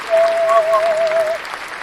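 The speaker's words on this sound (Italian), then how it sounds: "Grazie Elisa, applausi." A burst of applause from a crowd, steady clapping that fades slightly, with a faint tonal sound drifting over it.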